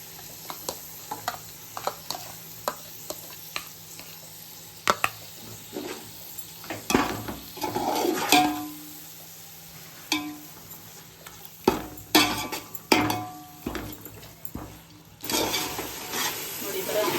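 Finely chopped tomatoes, curd and biryani masala stirred in a pan for spicy mutton biryani, with a soft sizzle and intermittent scraping clinks of a spoon against the metal, a voice talking over parts.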